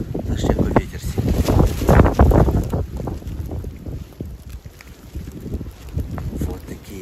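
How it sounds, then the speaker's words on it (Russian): Strong wind roars across the mountains at night, buffeting the microphone in loud, uneven gusts that ease off partway through. "Слышите, какой ветер сильный."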